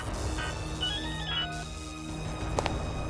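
A telephone rings with an electronic ringtone, a short bright tonal melody heard close over a low background hum in an indoor scene, with no voices.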